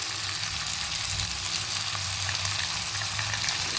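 Chicken pieces and potatoes sauté in hot oil in a pan, a steady, dense sizzle with fine crackling throughout, no voices.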